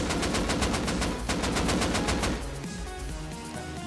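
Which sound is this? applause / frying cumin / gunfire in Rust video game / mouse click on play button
gunfire in Rust video game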